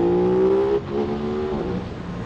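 Aprilia RS660 sport motorcycle accelerating on a road, a close, loud engine note climbing in pitch, briefly dipping at a gear change, then rising again.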